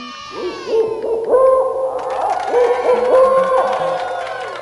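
A toy owl from an animal puzzle set hoots in a repeated electronic pattern over a bright jingle, loud and close, with a voice briefly present.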